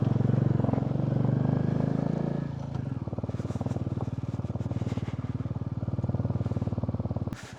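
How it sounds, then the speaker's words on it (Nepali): A motorcycle rides along a dusty road with a steady, close engine drone. The pitch drops and shifts into a pulsing lower throb partway through, and there is a brief sharp noise near the end. "कस्तो नाची चलाउँछ हौ उमङ्गेले बाइक"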